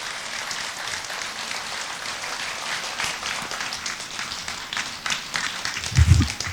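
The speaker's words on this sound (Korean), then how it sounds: "큰 박수로 맞이해 주시기 바랍니다" An audience at a mind-healing talk concert in Korea gives steady applause to welcome a monk to the stage, a dense, even wash of many hands clapping from a large crowd, swelling slightly toward the end.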